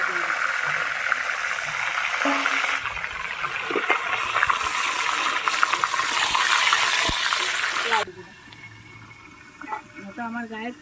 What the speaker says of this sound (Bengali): কড়াই আমার গরম হয়ে গেছে, এবার আমি মাথাটা ছেড়ে দিচ্ছি